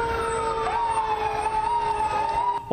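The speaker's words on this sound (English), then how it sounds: "The loud sirens." Fire truck sirens wail loudly at a parade in Huntington during Fire Prevention Week, a continuous rising and falling tone heard close by with no voices.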